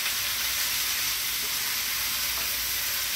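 Vegetables for ratatouille sizzle steadily in a hot pan, a loud, continuous frying hiss close up with no talk.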